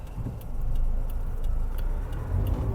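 A Subaru running on LPG accelerates flat out, its engine a continuous, loud low drone heard from inside the car with faint rattles and ticks above it.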